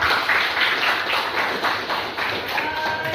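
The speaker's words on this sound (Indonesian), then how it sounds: "Tepuk tangan untuk kalian semuanya." Students clap their hands together in a classroom, a steady ragged burst of many palms that runs throughout and stays close and fairly loud.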